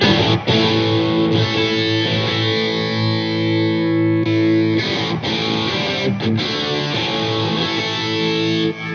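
Loud, raw distorted electric guitar chords strummed steadily through the amp's second channel, with a few short breaks between phrases and a bright, gritty tone.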